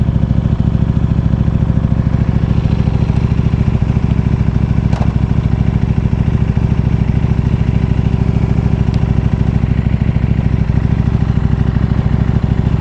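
A motorcycle on a ride that slows to turn around and head back, heard as a steady, close engine drone with a constant low rumble and little change in level throughout.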